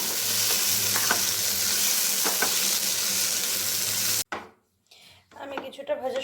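Scrambled egg and winter vegetables fry over a high gas flame for bhat bhaja fried rice, a loud, steady sizzle with faint stirring clicks that cuts off abruptly, leaving quieter kitchen sounds.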